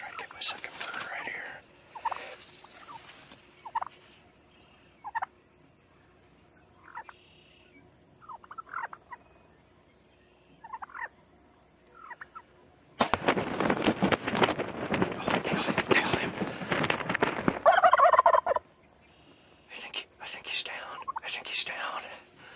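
Wild turkeys gobbling during a spring turkey hunt: several short, distant gobbling calls recur amid quiet outdoor stillness with whispered talk nearby, then a loud burst of commotion in the middle.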